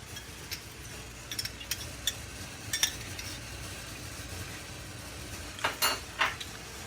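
Melted homemade caramel sauce with a splash of milk is stirred in a pot over the heat, making a steady soft sizzle with scattered light scrapes and taps of the spoon.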